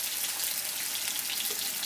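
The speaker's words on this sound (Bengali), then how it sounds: "আলুগুলোকে হালকা ব্রাউন করে ভেজে নিচ্ছি" Potatoes frying in hot oil give a steady, dense sizzle that holds evenly and fairly quietly throughout, with no voices over it.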